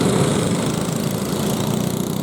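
Field of 4SS racing karts during a qualifying session, a dense continuous engine drone from many machines at once, loud and unbroken.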